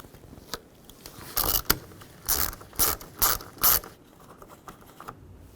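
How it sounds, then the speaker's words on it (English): A 13mm socket ratchet removes a nut on the fuse box of a 2009-17 Chevy Traverse, with several close bursts of rapid clicking pawl ratchet sounds in the middle and quieter isolated clicks before and after. "Use a 13mm socket and remove the nut."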